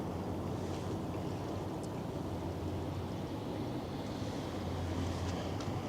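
Continuous low rumble and water wash as a pilot boat passes a cruise ship and makes waves, heard from a pier with steady wind noise and a gentle swell of water sound toward the end, no voices.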